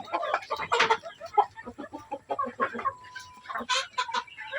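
Native chickens cluck and chatter close by in a farmyard, with a quick run of overlapping calls and a few sharper squawks.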